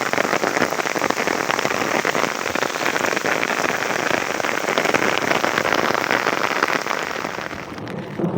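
Heavy rain pours down in a village, a dense, continuous roar of drops drumming on surfaces. It stays loud and unbroken for the whole stretch, with no voices.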